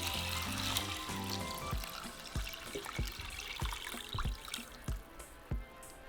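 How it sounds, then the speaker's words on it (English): Water poured from a container over lentils, garlic cloves and bay leaves in a cooking pot: a close, steady pouring rush that breaks into a series of separate splashes and drips, with no voices. "we're going to cover them with 7 cups of water"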